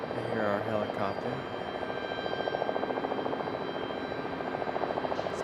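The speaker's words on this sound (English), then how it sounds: "I hear our helicopter." Helicopter flying near Raleigh-Durham International Airport, its rotor giving a steady rhythmic chop at medium distance beneath a person talking in the first moments.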